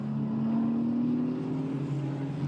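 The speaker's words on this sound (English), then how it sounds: "Then hard on the gas once again, accelerating out and heading towards breaking the timing beam now." A Ferrari Challenge race car accelerates at Mugello, its engine note holding a loud, steady tone that rises slightly as it pulls away.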